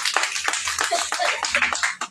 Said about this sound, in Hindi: तो एक बार ताली होनी चाहिए आप लोगों के लिए।